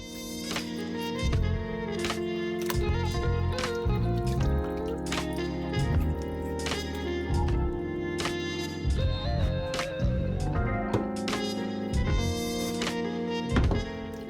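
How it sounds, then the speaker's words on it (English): Chitterlings being rinsed in water that splashes and drips continuously at close range, with wet squishing from the handling between bursts of running liquid. "I am just rinsing the vinegar taste off"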